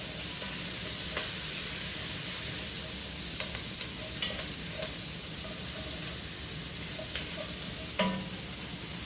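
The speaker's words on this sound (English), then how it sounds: "I'm going to get the onions in pretty much right away and start them sauteing." Onions and celery sauteing in a pot for chowder, giving a steady soft sizzle and hiss throughout with occasional light stirring clinks and scrapes, close and moderately quiet, with no talking.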